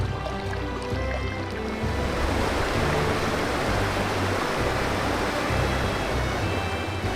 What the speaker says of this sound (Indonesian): kami menemukan sungai jernih di pinggir jalan